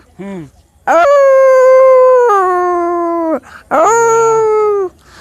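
A human voice mimics a wolf howling: a short yip, then two long, wavering howls that rise and slide down, loud and close, with nothing else around them.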